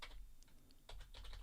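Rapid keystrokes on a computer keyboard as a login username is entered, a quick burst of close, crisp taps with brief pauses between clusters.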